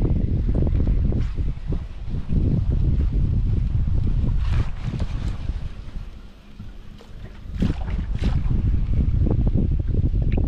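Strong wind gusting across open water around a small boat while pike fishing with lures, a loud continuous rushing roar buffeting the microphone with brief lulls, no talk.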